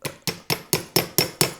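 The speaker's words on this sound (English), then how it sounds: "hammer that down just a little bit, and it flattens it out" Folded metal is flattened by a hammer in foldforming, eight sharp ringing blows at a steady quick rhythm, close and clear with brief decay between strikes.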